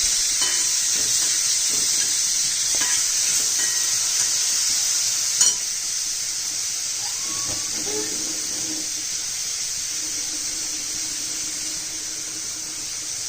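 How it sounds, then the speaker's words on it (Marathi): Chopped onion sautéing in a pan for bhakri gives a steady, close sizzle throughout, with occasional stirring clicks and a sharp scrape partway through. No one speaks. "कांदा टाकायचा, एक कांदा कापलाय, एक चिरलाय, चांगला परतून घ्यायचा आहे."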